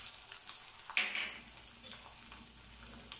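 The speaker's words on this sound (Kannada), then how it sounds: "ಈಗ ಎಣ್ಣೆ ಬಿಸಿ ಆಗೈತ್ರಿ, ಅದಕ್ಕೆ ನಾನು ಸಾಸಿವೆ ಜೀರಿಗೆ ಹಾಕ್ತೀನಿ ರೀ. ಆಮೇಲೆ ಬೆಳ್ಳುಳ್ಳಿನ ಹಾಕ್ತಾಯಿದ್ದೀನಿ." Mustard seeds, cumin and garlic crackle and sizzle in hot oil, a steady frying hiss with a sharp burst near the start as the spices hit the pan, close and alone.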